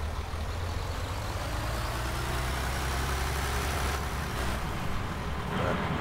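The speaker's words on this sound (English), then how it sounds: "I'm really fond of this Deutz tractor, so that was my first choice" Steady, droning engine hum of a Deutz tractor idling in a farming video game, constant and close with a low rumble and no break throughout.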